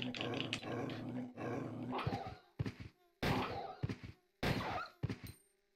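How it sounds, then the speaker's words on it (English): Dog enemies growl, snarl and lunge in Resident Evil Code Veronica X, heard as a run of loud, abrupt attack bursts and thuds separated by short silences, with game music and effects underneath. "Bad dog."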